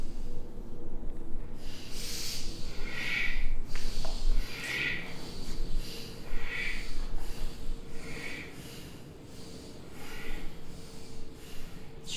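Deep rhythmic breathing during a yoga exercise, a series of airy breath bursts recurring every second or two, fairly close.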